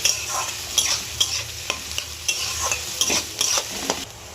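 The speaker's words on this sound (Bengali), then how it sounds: "পেঁয়াজটা ভালো করে ভেজে নেব।" Onions fry in a pan with a steady sizzle while a utensil scrapes and stirs in regular strokes, close up with no voices.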